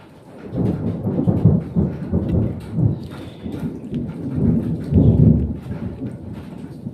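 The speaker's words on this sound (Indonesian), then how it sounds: "Hujan tapi panas, guys." Heavy rain with rolling thunder, rumbling in swelling waves that rise and fall over steady rainfall, loud and alone without voices.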